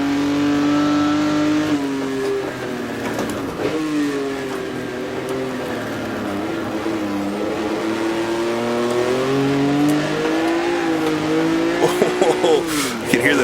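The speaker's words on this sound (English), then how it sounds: "you can hear the tires squeal there for a second" Tires squeal briefly on a 1958 Formula One car in the Automobilista racing game, a short screech over a loud, steadily droning engine that shifts pitch with gear changes, with a voice talking throughout.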